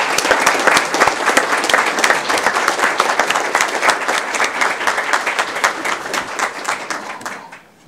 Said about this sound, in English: I'd like to give the students tonight a round of applause.